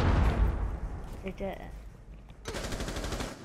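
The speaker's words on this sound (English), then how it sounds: "I hear gunshots." Gunfire in the Rainbow Six Siege video game, bursts of shots heard under players' voice chat, with a dense rattling stretch near the end.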